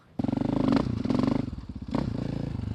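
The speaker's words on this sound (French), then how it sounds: "je monte sur la moto et on est parti" A KTM 500 EXC-F motorcycle pulls away, its engine jumping in suddenly with a throaty, pulsing thrum that rises, dips and surges again, loud and close.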